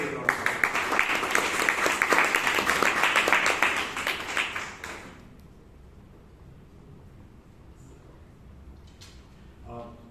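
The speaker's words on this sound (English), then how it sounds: "Let us give Toastmaster Ayappa another big round of" Applause at a Toastmasters club meeting in Bangalore, a dense burst of many hands clapping for about five seconds before dying away, followed by a quiet room with faint scattered noises.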